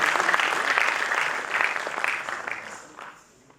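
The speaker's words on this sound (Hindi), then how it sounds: "जोरदार तालियां" An audience at a film festival gives loud, close applause that keeps up briefly and then fades out.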